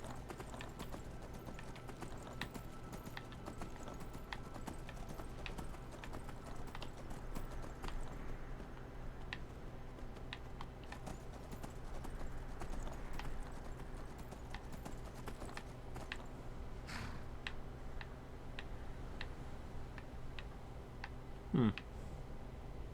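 Horse hooves clip-clop steadily in Skyrim, a regular quiet trotting rhythm over low wind and game ambience with a brief sharp sound near the end.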